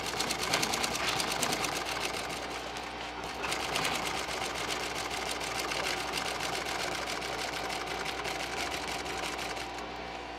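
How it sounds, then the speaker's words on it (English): A sewing machine stitches a tuck and roll seat cover for a 1947 Ford, a fast, steady mechanical chatter running nearly nonstop with a brief pause, close and prominent. "And you just stitch right along that fold until we get to the very end."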